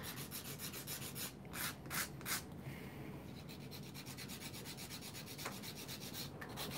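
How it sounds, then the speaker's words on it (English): A polygel nail with a lifted peel-off base coat is filed gently, giving quiet, close, rhythmic scratchy rasping strokes in quick bursts with brief pauses, and no talk. "this nail kind of came up because of the peel-off base coat, so I'm kind of filing it gently"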